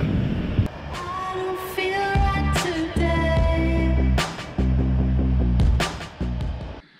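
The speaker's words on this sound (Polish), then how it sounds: "Jedzie pociąg." A train rumbles past nearby, a steady rolling roar with rhythmic clatter of wheels over rail joints and a few sharp metallic squeals.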